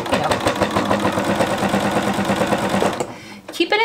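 Sewing machine running steadily while stitching a quilted tote bag strap, a fast close rhythmic whir for about three seconds before it stops, followed by brief talking.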